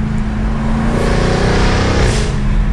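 2022 Jaguar F-Type R AWD convertible with ZF automatic gearbox accelerating hard, a loud close exhaust roar that climbs in pitch and then dips as a quick gear change goes through.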